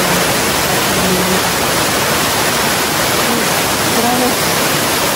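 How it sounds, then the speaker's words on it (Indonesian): A waterfall seen along a long overland journey to Morotai Island in North Maluku, heard as a loud, constant broadband rush of falling water with no break. "lihat di atas sana tuh ada air terjun"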